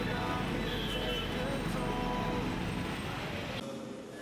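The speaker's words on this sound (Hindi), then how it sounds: "बड़े शहरों का ट्रैफिक देख लो भाइयों, यहाँ पे तो लोग ही लोग, लोग ही लोग, और इतना ज़्यादा साउंड पोल्यूशन देख सकते हो आप" City traffic in a crowded Indian street, a dense, continuous roar of vehicles and engine rumble with a busy crowd-like wash throughout, steady and close.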